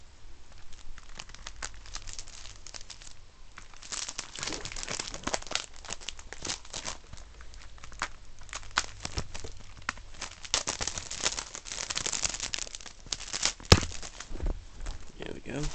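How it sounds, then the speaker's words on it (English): Cellophane wrapping being crinkled and torn off a Super Smash Bros. Club Nintendo CD package, a close, continuous crackling rustle with sharper tearing bursts throughout. "Let's get this cellophane off."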